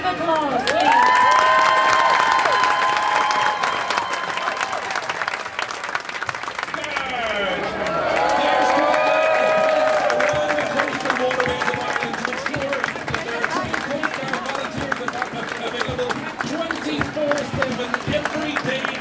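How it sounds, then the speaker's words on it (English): A large crowd at a Saint Patrick's Day event applauds and cheers for the Irish Coast Guard, sustained clapping with whoops for nearly twenty seconds while a loudspeaker voice carries over it. "We get another huge round of applause, please."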